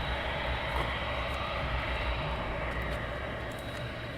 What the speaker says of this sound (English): We'll quickly get the next inbound aircraft, a prop aircraft, before the 74 taxis in.